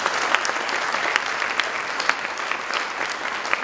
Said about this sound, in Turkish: kocaman alkışlarınızı istiyorum